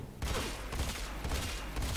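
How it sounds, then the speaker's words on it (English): Battacor rifle from the video game Warframe fires rapid bursts. Dense, crackling shots repeat close and fairly loud for about two seconds after a brief quiet start. "You can fire it with less than full charge."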